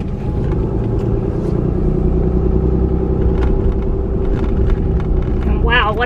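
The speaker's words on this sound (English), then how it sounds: "very bumpy though with this gravel road" A car drives a bumpy gravel mountain road in Cataloochee Valley, North Carolina, its steady low rumble and road noise continuing under people talking inside.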